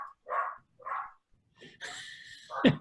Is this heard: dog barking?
yes